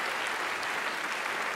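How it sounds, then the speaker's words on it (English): A round of applause from a university lecture audience at a debate on religion, thick continuous clapping from many hands, even in level from start to end with no talk over it. "one more round of applause for Robert Rosenkrantz for making this all possible"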